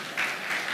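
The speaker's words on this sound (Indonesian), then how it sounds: "Beri tepuk tangan dong dulu sama Tuhan." Church congregation applauding during a Sunday worship service, a short burst of dense, steady clapping that swells and holds for under a second with no voices on top.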